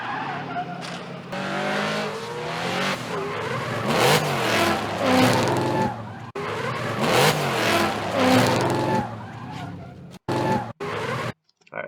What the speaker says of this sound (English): you can hear the car just kind of cuts out or comes out of gear or something